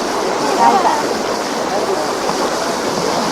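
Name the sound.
waves on Lake Balaton, Hungary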